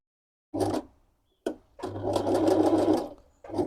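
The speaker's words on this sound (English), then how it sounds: "with these 1-step or 4-step buttonholes machines, you have to guide the fabric through" A sewing machine stitches a buttonhole in hoodie fabric, running in short whirring bursts separated by pauses, with one longer steady run in the middle, close and clear.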